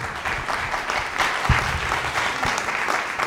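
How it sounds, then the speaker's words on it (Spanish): An audience applauds at an evening tribute event honouring a doctor, steady, dense clapping filling the room continuously from start to finish with no voices over it. "Este aplauso es para el doctor Szymiński, que está acá"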